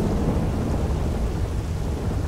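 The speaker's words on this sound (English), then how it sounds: "That seems highly dangerous to be riding in a rainstorm without any lights." Loud downpour and thunder during a rainstorm, heard from a moving vehicle, a constant wash of rain with low rumbling beneath it, unbroken for the whole stretch.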